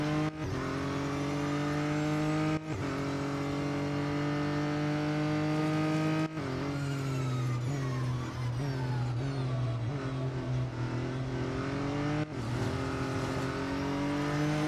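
Real Racing 3 race cars racing, a loud sustained engine whine that rises and falls with gear changes, marked by several brief dips in the drone as the car shifts.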